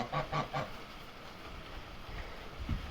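A goose honks three quick times at a distance, faint against outdoor wind, then the yard goes quieter with a low thump near the end.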